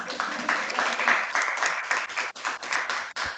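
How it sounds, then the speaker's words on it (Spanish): Audience applause following a conference talk, a dense, steady wash of many hands clapping at moderate loudness for the whole stretch, with a couple of brief dips. "le damos de nuevo un aplauso."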